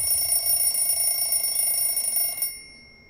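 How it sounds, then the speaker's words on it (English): An alarm clock rings in the Everlasting Summer video game, a loud, steady electronic tone with bright sustained harmonics that runs unbroken for about two and a half seconds and then cuts off abruptly. "I realized that the cause of this ringing is my alarm clock"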